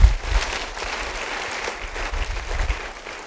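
A church congregation breaks into applause, a continuous, moderately loud wash of many hands clapping that fills the room without a break.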